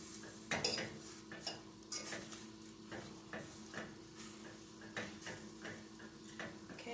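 Beef stir fry strips and broccoli with a little olive oil being stirred in a pan, a utensil clacking and scraping in irregular bursts over a faint sizzle, close by, with no talking.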